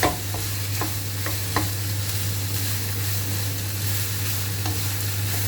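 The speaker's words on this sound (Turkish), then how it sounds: "Biraz da biberlerimiz oluncaya kadar böyle kavuracağız." Steady frying hiss of peppers sautéing in a pan, with a few soft scraping clicks of a utensil stirring, over a constant low hum.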